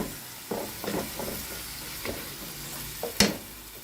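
Crushed tomatoes hit softened onions in a hot pan, raising a steady sizzle and frying hiss with several scraping stirs and a sharp clack near the end, close up and with no talk.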